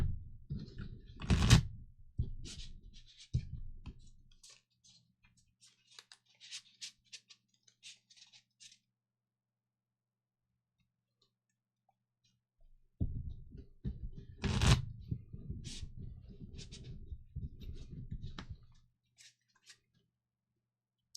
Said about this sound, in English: It's a new day, so a new shuffle.